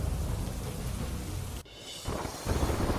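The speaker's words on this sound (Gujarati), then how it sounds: "કચ્છના મુન્દ્રામાં ધોધમાર વરસાદ" Heavy monsoon rain pours down in Mundra, Kutch, a loud, dense hiss of water drumming on surfaces. A brief dip midway gives way to the same steady downpour.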